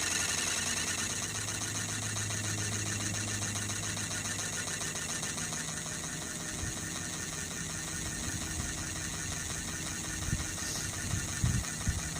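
A Sirius steam engine generator runs under full load on a boiler holding 40 psi, giving a steady, dense mechanical chugging and whirring with continuous vibration and a few light knocks near the end.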